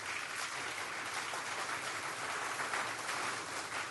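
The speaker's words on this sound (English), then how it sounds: "This stupidest thing I read today deserves the ultimate of applause" Dense, even applause, likely a canned effect on a talk radio show, with a steady hiss-like texture and no voices.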